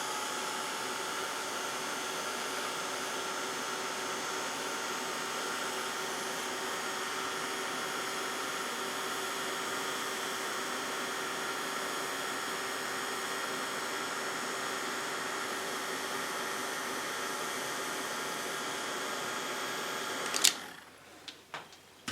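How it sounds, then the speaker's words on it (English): An embossing heat gun melts embossing powder on a handmade Valentine's Day card, giving a steady, even blowing whir that runs for a long stretch before cutting off with a click and a few faint handling knocks. "get my embossing gun out and heat that up"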